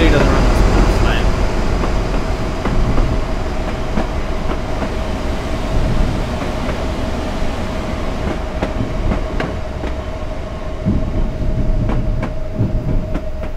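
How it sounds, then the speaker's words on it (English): An HST train passing the other way in Train Simulator 2018, a loud continuous rumble of rolling stock with a steady tone and clicking wheel beats, under occasional talk. "There's actually a HSD coming the other way"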